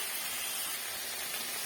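Chickpeas with drumstick and brinjal sautéing in hot oil for sundal puli kulambu, a steady broadband hiss and sizzle, close and even, with no talk.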